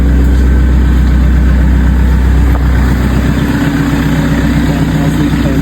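A car engine idles steadily with the air-conditioning compressor switched on and running, a constant low hum and rumble heard close up throughout, with no talking.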